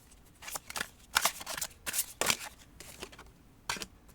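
Tarot cards being shuffled and handled, a series of crisp papery riffles and flicks in uneven bursts, close and fairly quiet, with no talking.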